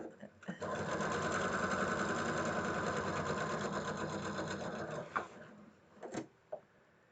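Sewing machine stitching fabric, a loud continuous mechanical whirr for about five seconds that stops abruptly, followed by a few short clicks and handling knocks.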